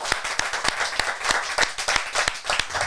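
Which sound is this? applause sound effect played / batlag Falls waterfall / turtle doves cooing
applause sound effect played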